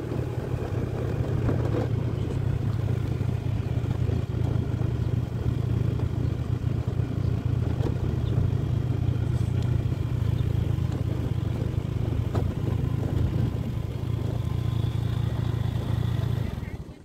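A walking tractor tills soil in a rainy-season rice field, its steady low engine drone running close and loud throughout with some clatter, while a person talks over it.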